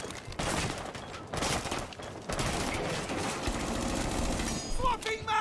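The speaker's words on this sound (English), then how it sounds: "Where am I getting shot?" Dense, rapid automatic gunfire in the video game Rainbow Six Siege, bursts rattling almost continuously with brief pauses, loud and close, with game sounds over it and speech in the mix.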